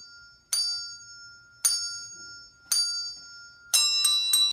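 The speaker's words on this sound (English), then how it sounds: "I really wanted to see Jingle Bells on a fucking comb." Jingle Bells is played on a comb as bright, bell-like plucked tones: three separate ringing notes, then a quick cluster of notes at the end, alone in near silence.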